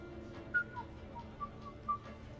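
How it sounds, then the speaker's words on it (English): A Mass Effect character whistles a soft, wandering tune of several short notes, quiet and close, with no talk over it. "Are you whistling?"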